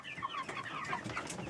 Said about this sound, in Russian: А он у меня кукарекает.